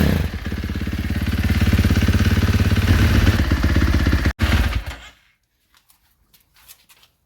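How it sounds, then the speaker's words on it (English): A 2024 KTM 450 SX-F motocross bike's single-cylinder engine idling while it warms up, a loud steady close-range rumble that is suddenly cut off and then falls silent apart from faint clicks. "you're going to start the bike and get it up to temperature"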